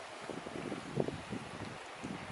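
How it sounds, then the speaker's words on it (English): Low, steady wind buffeting the microphone on an island at Maya Bay, a faint rumbling gust with soft rustle, quiet and continuous with no voices. "It's really windy"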